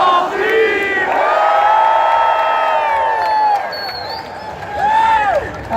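A large crowd at LA Comic Con 2017 erupts in a loud, close group shout, then keeps cheering and whooping, with a second surge of yelling near the end.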